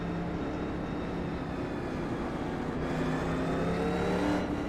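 A 1987 Legends stock car engine in iRacing NASCAR at Daytona builds into a rising rev, a loud sustained buzzing whine that climbs in pitch toward the end, with no talking.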